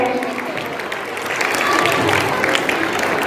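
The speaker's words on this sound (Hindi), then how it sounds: "तालियों से स्वागत करें, इस्तकबाल करें।" An audience claps to welcome children coming onstage for a school drama performance, a loud continuous burst of many hands that swells slightly toward the end, with a voice faintly beneath.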